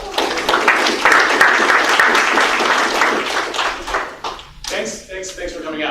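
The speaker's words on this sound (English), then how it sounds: "a round of applause for Cameron" Audience at a technology talk giving a round of applause to the speaker, dense clapping swelling loudly then tapering, with voices over the end.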